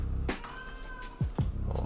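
A house cat meows three times in short, sharp bursts, close and fairly loud, with quiet room tone between the calls.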